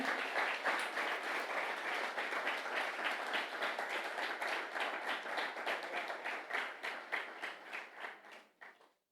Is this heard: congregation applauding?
yes